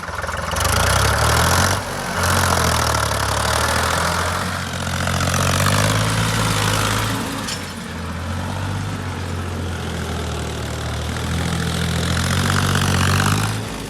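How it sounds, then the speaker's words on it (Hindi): A modified 1991 Ford 3600 tractor engine idles steadily and loudly close by, its low rhythmic chug holding throughout with a brief dip in level early on. "ये एक फोर्ड 3600 ट्रैक्टर, बड़ा ही पॉपुलर ट्रैक्टर है।"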